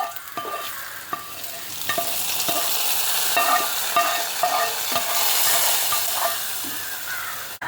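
Hot tempering of dried red chillies and curry leaves poured into a Kerala-style mango curry gives a loud, continuous sizzle and hiss, with occasional clinks of a spoon stirring the pot.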